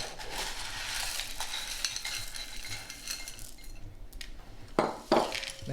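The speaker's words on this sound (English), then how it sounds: "Mix that all together." A salad with mayonnaise and frozen peas is stirred in a bowl, giving a steady close wet scraping and clinking of a utensil, with a couple of louder knocks near the end.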